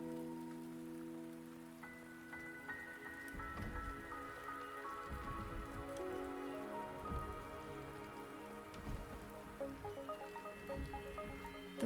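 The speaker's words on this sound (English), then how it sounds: "The rain is subsiding, and the sky will soon clear." Steady rain falls across the landscape in the video game Wuthering Waves, a soft continuous patter with scattered drips, heard alone under sustained music tones, moderately quiet throughout.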